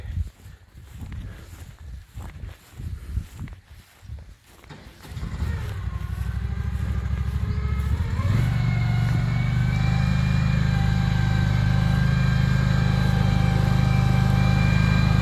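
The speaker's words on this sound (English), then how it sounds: "Alright, I'll mow the same path with the yak." A lawn mower starts with sputtering bursts, then settles into a loud steady engine drone. At full revs on the lowest cutting setting it holds one continuous close roar with no talking.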